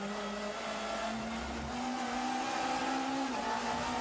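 Onboard engine of a 1994 BTCC touring car at Silverstone's Abbey chicane, a loud continuous drone rising in pitch as it climbs through fourth and fifth gear, with a brief dip between, under heavy wind and road noise.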